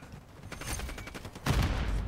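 A short burst of automatic gunfire from Call of Duty Modern Warfare III rattles in quick succession, then a louder blast of shots hits near the end.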